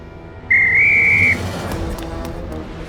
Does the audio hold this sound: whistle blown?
yes